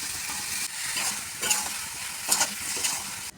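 Potatoes and mushrooms fry in a pan while a spatula stirs them, giving a loud, close sizzle with repeated scraping strokes and no talk.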